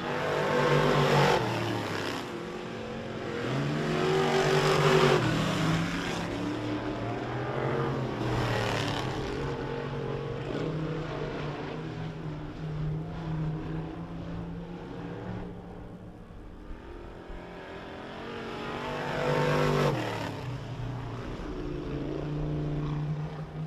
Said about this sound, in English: So they're going to wind it up and let it fly here for some laps around the port.